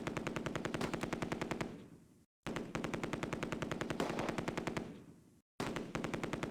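MG42 machine gun fire in the Close Combat war game, two long rapid bursts of loud, tightly spaced shots, each cut off by a brief silence, with no talk.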